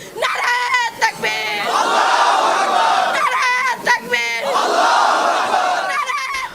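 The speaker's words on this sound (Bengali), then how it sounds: "মধ্যরাতে নারায়ে তাকবীর ধ্বনিতে মুখর জগন্নাথ বিশ্ববিদ্যালয় ক্যাম্পাস" A large crowd shouts the chant Naraye Takbir in loud, repeated call-and-response waves at night on the Jagannath University campus, with a single voice leading between the roars of the crowd.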